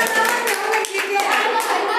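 A classroom group of students claps together for both teams after a tied quiz round, a loud, steady burst of rhythmic hand clapping with voices mixed in.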